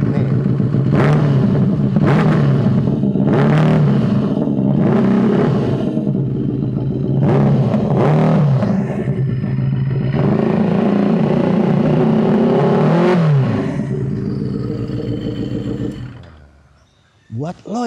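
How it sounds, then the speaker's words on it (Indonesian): A Ducati Monster motorcycle with a custom exhaust roars close by through several sharp throttle blips and revs over a deep idle, then cuts out near the end, with a voice talking between the bursts. "Memang dengan knalpot di custom suara jadi lebih keluar lagi guys."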